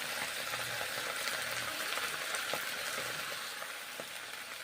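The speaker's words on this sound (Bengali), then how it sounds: "শুশুনি শাক রান্না করছি" Shushni greens frying in a pan with green chilli and turmeric, a continuous soft hiss and crackle of oil, close and fairly quiet, with a few sharper pops.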